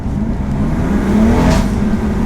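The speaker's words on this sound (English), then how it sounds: "Sounds a lot better, even for a stock exhaust." An Audi R8 V8 engine revs steadily through its stock exhaust with a deep drone, rising slightly in pitch and loudness partway through, close and continuous.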